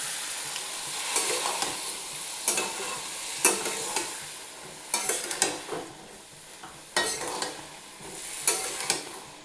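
Papaya curry being stirred and sautéed in a pan, a steady sizzle broken by repeated scraping strokes of a spatula at irregular intervals, close and moderately loud with no talking.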